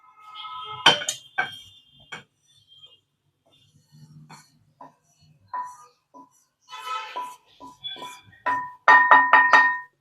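Roasted wheat flour is tapped out of a pan into a kadai, with irregular, sharp metallic knocks and clinks spaced through near silence, ending in a rapid cluster of loud raps.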